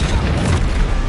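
Confringo blast spell in a Harry Potter video game, a loud, dense booming explosion that fills the whole brief moment at close range.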